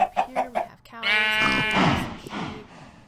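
Chickens clucking in a blocky survival video game farm pen: a few short, close clucks, then a longer bleating call with a sheep sound mixed in, no talk over it.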